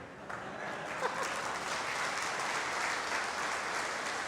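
Audience applause fills the clip, a dense, steady wash of many hands clapping at close range from start to finish, with no talk over it.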